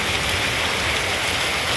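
Heavy rain pours steadily, a dense, loud and continuous hiss of water with no talking over it.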